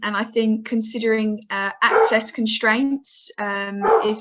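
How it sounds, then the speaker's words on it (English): A dog barks briefly in the background, faint and partly buried beneath a person speaking steadily throughout. "that's the dog barking in the background"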